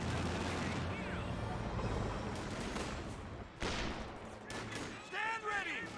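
Rifle squad gunfire in a Company of Heroes 2 battle against Fusiliers, with sustained crackling volleys and bursts layered over dense battle noise, several sharper shots standing out near the end.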